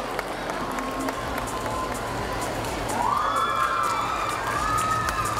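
Audience at a girls' high school annual day celebration clapping and cheering, a steady crowd wash with shouting voices rising over it midway.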